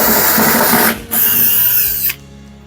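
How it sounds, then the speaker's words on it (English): A power drill unscrews the top-cover screws of a Super General 10kg washer dryer: two close, loud bursts of whirring motor, about a second each, separated by a brief pause, with no talking. "Here 2 screws I have to unscrew."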